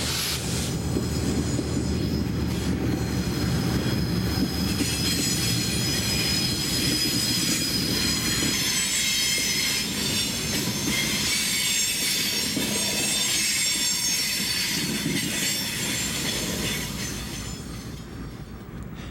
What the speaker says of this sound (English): Here the same train makes an appearance at Matt.